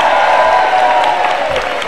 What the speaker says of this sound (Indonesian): Kita beri tepuk tangan sekali untuk Marcel